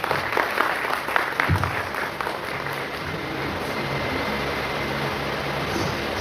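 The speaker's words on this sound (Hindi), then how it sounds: "एक बार जोरदार तालियां हो जाए।" Hearty applause from a crowd at a celebration event, loud and sustained clapping that swells early and then holds steady as a dense, even wash of hand claps.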